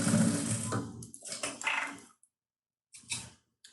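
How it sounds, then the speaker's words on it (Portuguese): A sewing machine stitches a seam on a simple fabric pencil case with piping, running in a dense continuous burst for about two seconds, then stopping, with a short mechanical whir following after a pause. "Vou passar a costura."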